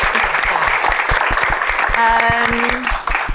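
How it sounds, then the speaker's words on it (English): Audience applause at an International Women's Day event, lively clapping with a voice speaking and a brief tone sounding over it partway through. "round of applause for Lindsay"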